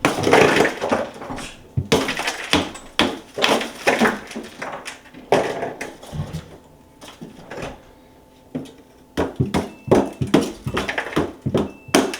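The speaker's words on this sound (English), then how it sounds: "I just take my screwdriver, support the ice, and smack it." A screwdriver smacks ice off the wires of a Kenmore refrigerator's freezer evaporator fan, giving repeated sharp cracking, crunching knocks in irregular bursts, close and loud, with a few short pauses.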